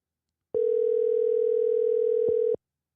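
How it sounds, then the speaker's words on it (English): A phone call rings out on the caller's end: a single steady electronic tone starts about half a second in, holds evenly for two seconds with a slight blip near the end, then stops, surrounded by silence. "let's see if this man will actually answer his phone"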